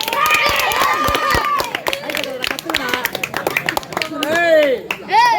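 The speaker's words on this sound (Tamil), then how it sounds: "கைத்தட்டுற போட்டி" At a clapping contest during a village drama troupe show, a crowd claps in scattered, uneven bursts while loud voices shout and talk over it.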